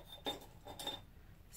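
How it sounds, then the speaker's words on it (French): Old metal scissors picked up from a craft table, giving two brief, faint clinks about half a second apart, then near silence. "je vais prendre mes vieux ciseaux"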